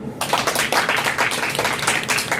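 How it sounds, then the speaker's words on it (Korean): A high-school Sunday worship congregation breaks into applause, a dense burst of many hands clapping that carries on steadily. "우리 박수"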